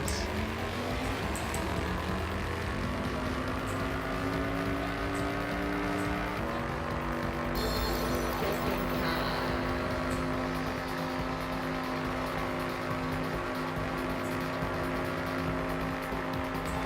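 A car engine in the video game Danganronpa V3 drones steadily throughout, a sustained motor hum with a pitch that rises gradually and shifts, over constant game audio.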